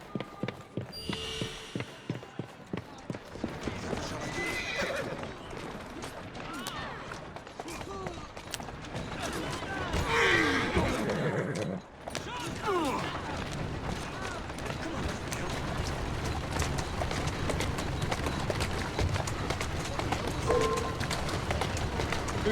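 A horse gallops in Assassin's Creed Syndicate, rapid rhythmic hoofbeats clearest at the start before blending into busy game noise, with a voice speaking throughout.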